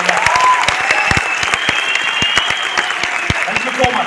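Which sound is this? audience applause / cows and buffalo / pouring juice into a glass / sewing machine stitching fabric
audience applause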